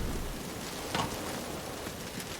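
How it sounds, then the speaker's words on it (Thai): Rain falls steadily in the video game Generation Zero, a dense, even hiss of drops with one brief louder swell near the middle and no voices. "อ๋อ ฝนตก"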